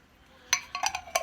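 A lid is set onto a glass jar filled with olive oil and diced peeled garlic cloves. Several quick close clinks and small scraping taps sound in a short burst against quiet background.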